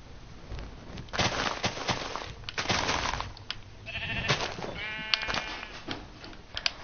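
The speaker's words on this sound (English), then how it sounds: "Dylan, I killed all the sheep." A Minecraft sheep bleats twice in short, wavering calls amid clicky in-game sounds and light tapping, with no one speaking over it.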